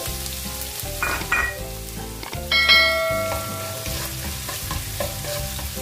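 Ginger sautéing in hot oil for squid adobo, a steady sizzle with stirring scrapes and a few bright clinks of a utensil against the pan, close and fairly loud throughout.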